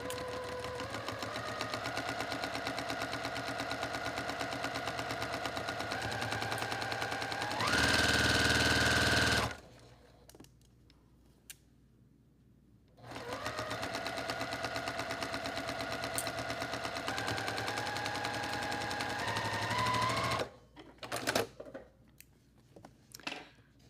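A sewing machine stitches fabric with a quarter inch foot, its steady whirring hum running in two long bursts separated by quiet pauses with small handling clatter.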